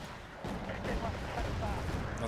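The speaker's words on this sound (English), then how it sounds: "Come over, drop some more bombs." Bombs land on enemy units in the Wargame Red Dragon battle game, a muffled rolling rumble of explosions and gunfire-like bursts continuing through the short stretch at moderate level.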